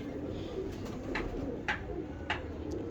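Soft, low cooing of a pigeon, repeated gently and heard fairly quietly, with a few faint clicks in the background.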